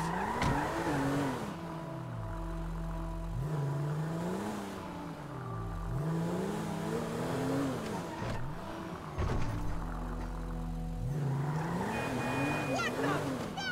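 A car engine in Grand Theft Auto V revs up and down repeatedly with whining gear shifts and tire noise, with occasional voices under it.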